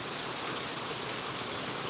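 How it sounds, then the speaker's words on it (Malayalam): Heavy rain pours down in a steady, even hiss, heard alone for a brief moment. "നല്ല മഴയാ"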